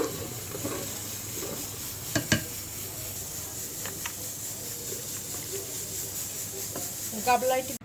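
Goat meat curry stirred once in a pot after adding a spoonful of fried spice mix, with faint scraping and a soft sizzle under steady background hiss, and a few clinks near the end.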